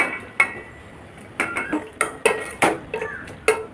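A lid goes onto a cooking pot of amaranth stems and tomato with several close metallic clinks and clatters in quick succession. Light kitchen handling noise comes between the clinks.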